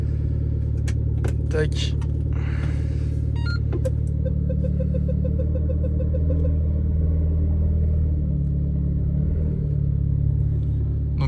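Renault Clio 4 RS engine running at idle, a low steady rumble with a few sharp clicks and a brief voice over it.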